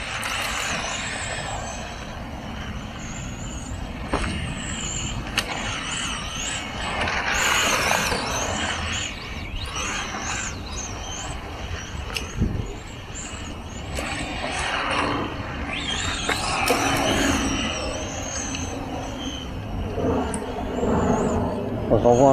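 A Tamiya TT02 Lancia Delta RC car drifts, its electric motor whining and tires scrubbing in rising and falling surges, while someone talks over it nearly the whole time.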